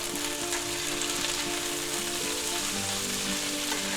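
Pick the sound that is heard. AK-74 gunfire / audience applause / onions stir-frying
onions stir-frying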